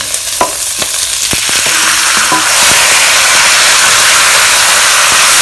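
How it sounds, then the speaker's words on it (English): Loud, steady sizzling of chicken frying in a hot wok over medium-high heat, with a few sharp clanks of a utensil stirring early on before the hiss swells and fills the sound. "While frying this over medium-high heat"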